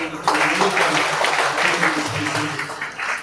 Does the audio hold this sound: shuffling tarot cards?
no